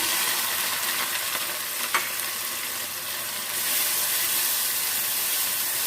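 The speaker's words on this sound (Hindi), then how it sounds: "ऑयल गरम हो चुका है, ऑयल में हम लहसुन और प्याज ऐड कर देते हैं।" Garlic and onion sizzle steadily in hot oil with a bright crackling hiss and a brief stirring scrape partway through.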